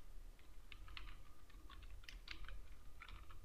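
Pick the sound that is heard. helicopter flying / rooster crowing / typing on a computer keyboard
typing on a computer keyboard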